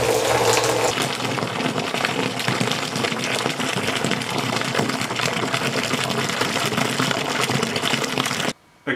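Wort for a 50-litre Pilsner drains from the valve of a Speidel Braumeister through a hose into a fermenter: a loud, steady rush and splash of pouring liquid close by, then an abrupt stop just before the end.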